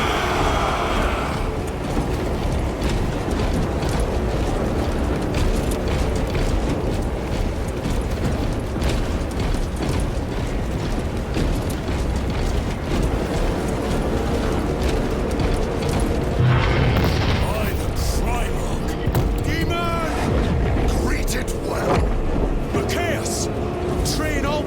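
Warhammer 40K Space Marine 2 battle cutscene: dense, loud gunfire and booming explosions roll on continuously, with shouted voices over the din.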